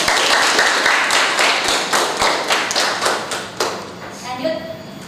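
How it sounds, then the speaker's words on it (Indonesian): Classroom audience clapping at the end of a student's presentation, a dense burst of hand claps that gradually thins out, with voices talking over it near the end. "Beri tepuk tangan buat Devi"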